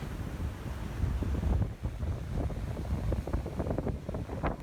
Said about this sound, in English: it was a rainy and windy day